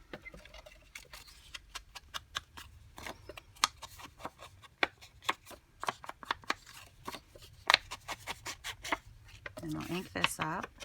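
Ink pad dabbed repeatedly onto the edges of a paper craft pocket, a rapid string of soft tapping pats, close and fairly quiet, with a voice briefly heard near the end.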